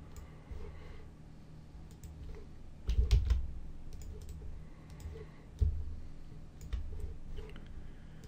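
Mouse clicks while shapes are drawn in Adobe Illustrator, a scattering of light, close, irregular clicks over a low steady background hum.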